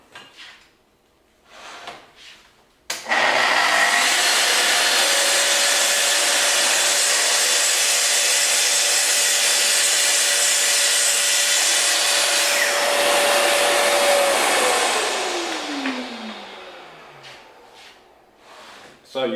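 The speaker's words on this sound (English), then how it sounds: "now we're ready to make the cut" A Festool TS55 track saw spins up and cuts through melamine-surfaced board, a loud steady whine sustained for about ten seconds before winding down, with a few clicks and handling noises around it.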